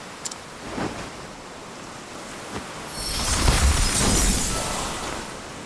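An ice spell in the role-playing game Octopath Traveler 2, conjuring a boat of ice on straw, surges up midway as a bright, crackling, shattering rush over wave-like background noise, then slowly fades.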